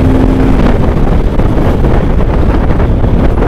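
Steady, loud rush of wind buffeting the microphone over a low engine drone as a motorcycle rides along a mountain road on a Manali trip in Himachal, continuous throughout with no pauses.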